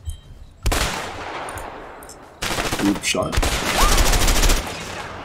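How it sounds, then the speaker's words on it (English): Rapid gunfire bursts from the video game A Way Out, loud and close, breaking in after a short quiet start and then crackling almost nonstop with dense volleys. "shooting"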